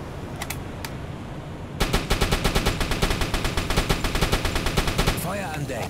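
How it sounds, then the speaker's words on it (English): U-boat deck gun in a video game firing high explosive rounds at a ship, a rapid regular train of sharp loud bangs that keeps going after two early isolated shots, ending in a brief splashing rush. "Firing high explosive rounds on the ship."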